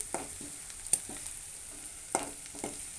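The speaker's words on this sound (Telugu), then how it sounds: "పచ్చిమిర్చి ఆనియన్స్ అయితే మంచిగా దూరగా వేగాలండి వేగుతున్నాయన్నమాట" Green chillies and onions fry in a pan for a home-cooked chicken curry, a steady close sizzle broken by a few sharp stirring scrapes.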